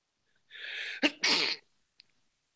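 A single person sneezes in a quiet indoor sports talk radio studio: a drawn-in breath, then a sharp burst and a loud, breathy release, followed by silence and one small click.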